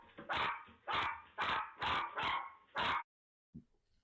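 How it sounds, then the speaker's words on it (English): Six sharp dog barks in quick succession, loud and close, caught on a home security camera, then a brief pause and one small faint yelp. "as the dogs are barking"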